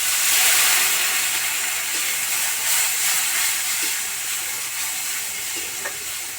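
Water hits hot oil frying ginger garlic paste with turmeric for a Bata fish curry, producing a loud, steady, close sizzle and hiss throughout with faint stirring underneath.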